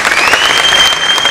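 An audience claps steadily and loudly for a student being honoured at a coaching institute's felicitation for a top JEE Advanced 2024 rank, a dense wash of many hands with no break.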